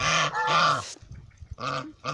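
Geese honk loudly and squabble over feed at close range, with two bursts of harsh nasal calls separated by a brief pause of scuffling.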